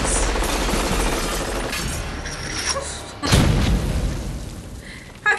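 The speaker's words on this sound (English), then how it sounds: "Gosh, so many explosions." Loud, dense soundtrack from the action movie Die Hard of booming explosions and rapid gunfire bursts, with a heavy blast near the middle and a final sharp hit.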